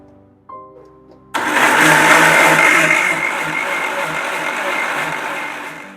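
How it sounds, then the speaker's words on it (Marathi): A kitchen mixer blending mango lassi starts abruptly after a moment of quiet and runs as a loud, steady whirring roar that eases slightly toward the end, with brief voice sounds before it starts. "आता आपण हे मिक्सरमध्ये फिरवून घेऊयात"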